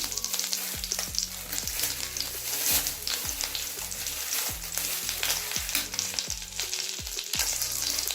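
A bay leaf sizzles in hot oil that was just used to fry fish, a steady crackling fry with stirring scrapes, close and alone with no talk.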